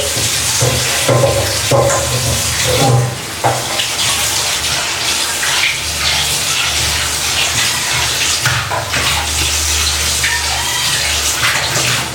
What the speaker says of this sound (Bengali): এবারে কড়াইয়ের ভেতরটা একটু ভালো করে ধুয়ে নিচ্ছি